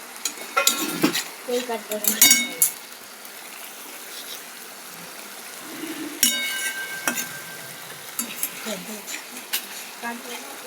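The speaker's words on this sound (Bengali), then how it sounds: "এই যে নাড়াচাড়া করে নিচ্ছি।" A spoon scrapes and clinks against a pan while tomatoes and pumpkin are stirred for a paneer curry, with irregular metallic taps and soft rustles and a quiet voice talking in between.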